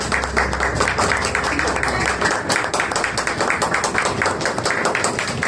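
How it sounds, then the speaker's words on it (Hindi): A congregation at a Hindi-Urdu Bible sermon applauds, a dense, steady patter of many hands clapping close by for several seconds. "आपकी जोरदार तालियों"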